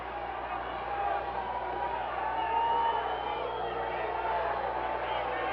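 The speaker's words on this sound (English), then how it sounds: "the crowd is really alive tonight here in historic Freedom Hall, Johnson City, Tennessee" A wrestling crowd roars inside historic Freedom Hall arena in Johnson City, Tennessee at an SMW event, a continuous wash of cheering and shouting from a large audience, loud and steady throughout, with no talk over it.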